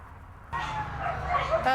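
Dogs yap and whimper in shelter kennels, a close burst of high, sharp yips starting partway through and continuing.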